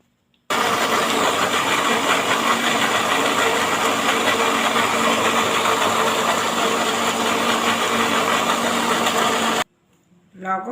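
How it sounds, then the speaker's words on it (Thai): A kitchen blender grinds lemongrass, shallots and chili with about half a glass of water, a loud steady motor whir that starts abruptly and cuts off after about nine seconds. "ปั่นตะไคร้ ปั่นหอมพันพริกนะคะ เวลาเราปั่นเราจะใส่น้ำลงไปประมาณครึ่งแก้วนะคะ"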